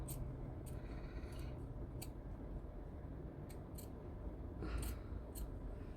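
Scissors snipping through fabric seam allowance at a blouse neckline with bias binding, a series of short, crisp cuts at a moderate pace over a steady background hiss, close by and fairly quiet.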